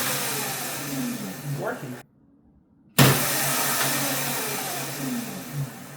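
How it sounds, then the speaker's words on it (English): An MX350 electric scooter's motor spins its wheel under throttle, giving a steady mid-pitched electric whir that rises in pitch, cuts out briefly to near silence, then resumes just as loud. A voice speaks briefly over it. "So now let's twist the throttle and see if our wheel is going to spin."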